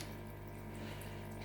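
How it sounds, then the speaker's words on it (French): Water runs steadily from a tap as it fills a container, a faint continuous trickle with a low background hum throughout. "On va remplir un peu d'eau."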